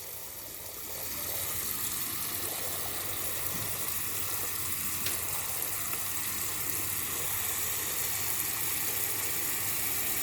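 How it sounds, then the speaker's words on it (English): A Combi SP2B shower water pump runs with water flowing, a steady close hiss and hum that rises just after the first second and then holds evenly to the end. "Alexa, water pump on."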